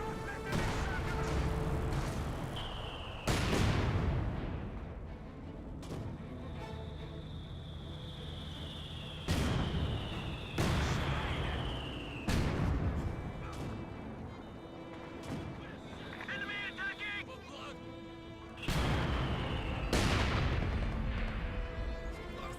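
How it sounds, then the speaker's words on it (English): Rifle grenade blasts in the Company of Heroes 2 battlefield: a series of heavy booms recur every few seconds over a continuous rumble of combat, some followed by whistling streaks, with no voices. "I heard a rifle grenade."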